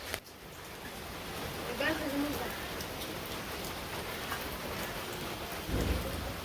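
Steady rain pours down in a village setting, a dense, even hiss of drops on surfaces that continues throughout, with a faint voice briefly audible beneath it.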